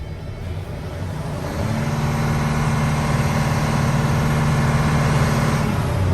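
A large truck engine, an Isuzu Giga or similar heavy truck, runs during a pre-auction inspection. It idles steadily, then revs up into a louder, constant drone with a clear low hum.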